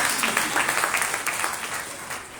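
A church congregation clapping together during a Sunday Hindi-Punjabi sermon, a dense, steady patter of many hands close by that continues throughout without a break.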